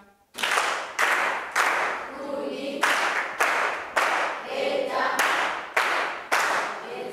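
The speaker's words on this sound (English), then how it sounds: "Clap once for Albertina" Secondary school students clap in unison for a classmate, a loud sequence of sharp synchronized group claps in a steady rhythm, each burst followed by a short scatter of stray hands.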